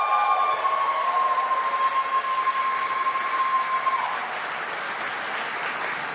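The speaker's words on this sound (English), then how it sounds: "can we have some applause for her, please" Audience applause at the Golden Joystick Awards 2025 ceremony, a steady wash of clapping from a crowd that holds for about four seconds, then thins and fades with a long tone ringing underneath.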